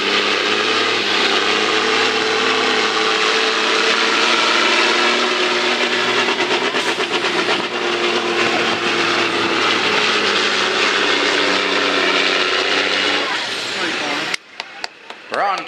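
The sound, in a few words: pulling truck engine spooling up at truck pull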